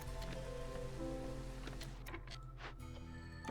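Drizzling rain in the game Against the Storm, a soft continuous patter of light rainfall with faint droplet ticks over a low tonal game background, quiet and steady.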